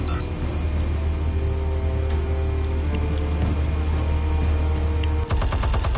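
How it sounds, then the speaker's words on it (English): Automated gun turrets in a yard in Batman Telltale Series: a low steady rumble carries faint scattered shots, then a sharp, fast burst of rapid fire breaks in near the end. "Automated guns in his yard."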